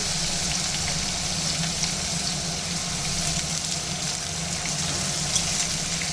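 Onions sizzling in hot oil with whole cardamom, cloves, cinnamon and bay leaf for khichuri, a steady, even frying hiss that holds at a constant level from start to finish.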